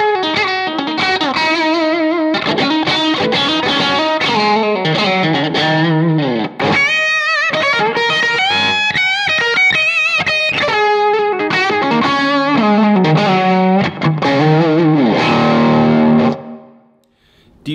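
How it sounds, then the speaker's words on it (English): An electric guitar on its bridge single-coil pickup plays a busy run of notes and bends with a bright, slightly twangy tone, steady and loud throughout before fading at the end. "you can hear it in the bridge single coil position here"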